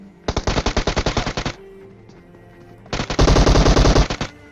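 Two loud bursts of rapid automatic gunfire in the PUBG Mobile battle royale game, each a quick string of about a dozen shots, separated by a short quiet gap.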